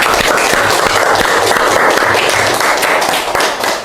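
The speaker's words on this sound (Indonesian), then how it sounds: "Ya, tepuk tangan untuk kelompok 3." Classroom applause for presenting group 3 in an Islamic ethics lesson, steady dense clapping from many pupils throughout, loud and close, fading slightly at the end.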